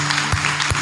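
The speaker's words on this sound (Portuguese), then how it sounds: "E aplauda bem forte o Senhor Jesus." Congregation clapping during a Catholic worship event, with a few sharp, distinct claps standing out over a bright, continuous crowd wash in a short burst.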